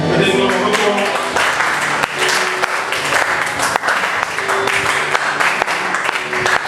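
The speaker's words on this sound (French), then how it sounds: "Avec nos yeux fermés, nous applaudissons le Seigneur." A church congregation claps steadily through a sermon, a dense, continuous wash of applause with the preacher's voice carrying over it.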